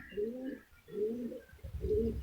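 Pigeons coo in three rolling, throaty phrases spaced about a second apart, close and clear, with some low handling noise near the end of the last phrase.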